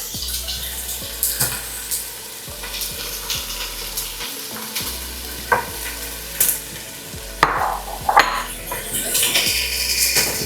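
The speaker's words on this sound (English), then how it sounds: "And we're going to just fry that a little bit." Beetroot and a little onion frying in a pan, stirred with a silicone spatula: steady close sizzle with repeated scraping and clinking strokes against the pan, no talk.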